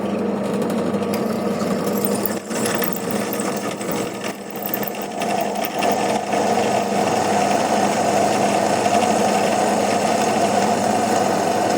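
A PRO-CRAFT BD2150 bench drill press bores through a workpiece, holding a steady, close motor drone with a dense grinding buzz throughout and a brief dip partway through.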